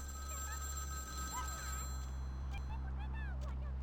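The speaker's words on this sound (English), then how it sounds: "Phone." A phone rings in Vampire: The Masquerade – Bloodlines, a repeated electronic ringing tone over a low steady game hum with a faint background whine.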